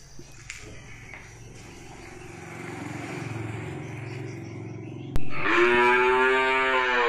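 Cattle at a cattle market in Tra Vinh, bulls and cows, with one loud close moo arriving suddenly after a stretch of low market rumble and distant animal sounds.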